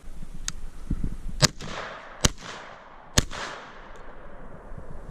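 A 20-gauge Retay Masai Mara shotgun firing 3-inch number 1 heavy steel shot outdoors: three sharp, booming reports spaced about a second apart, following a fainter crack, each trailing off quickly over low background noise.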